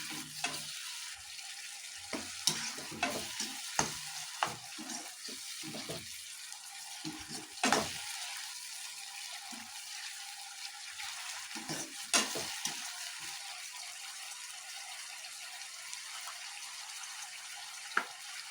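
Chopped tomatoes soften in hot oil as a spoon stirs them around a pan for a hotel-style mushroom masala, with a steady, close sizzle broken by scraping and knocking of the spoon against the pan.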